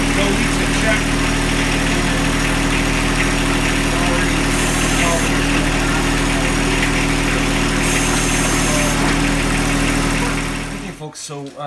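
A John Deere 1025R compact tractor with an upgraded hydraulic pump and flow divider runs at a loud, steady idle up close, then the engine cuts off near the end.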